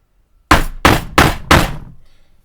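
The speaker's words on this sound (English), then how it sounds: "then I'm going to take my hammer right here, and then we're going to punch that through" Four sharp, evenly spaced hammer strikes punch a hole through a leather knife sheath, loud and close, each blow ringing briefly before the next, ending in a short fading tail.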